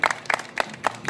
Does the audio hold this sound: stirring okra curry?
no